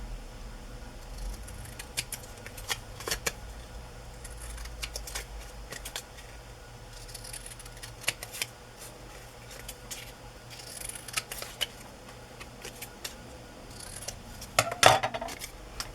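Scissors trimming a vintage photo for a shabby-style journal page, a series of quiet, crisp snips spaced irregularly over a soft background, with a sharper cluster of cuts near the end.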